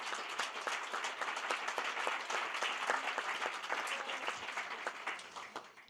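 An audience claps for an absent honoree at an anniversary gathering, a steady, moderately distant round of applause lasting about six seconds with no talk over it.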